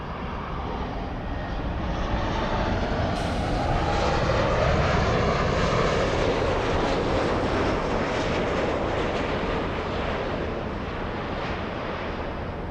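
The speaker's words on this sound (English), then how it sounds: "Alaska 696 flying in from Seattle, Washington" An Alaska Airlines jet airliner arriving at LAX from Seattle sends a loud, continuous broadband engine rumble that holds steady for several seconds before easing off slightly, without speech.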